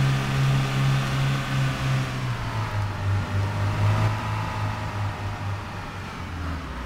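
A Toyota Prius in Arma 3 drives along at speed, giving a steady engine hum and road rumble that holds level the whole time, with no talking over it.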